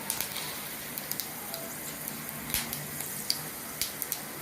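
Mustard and fenugreek seeds crackle and sizzle in hot oil in a home kitchen pan, a steady frying hiss broken by small irregular pops, fairly faint and close, with no voices.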